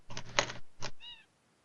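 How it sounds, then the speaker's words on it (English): A cat meows once, a short rising-falling cry that follows a few seconds of loud voices and ends in quiet. "Someone's cat's adorable."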